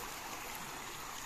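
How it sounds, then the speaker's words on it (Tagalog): Clear stream water flowing steadily on a farm, a soft continuous rushing and trickling wash with no voices, even and unbroken throughout. "Ito ng sapa dito, ang linaw ng tubig."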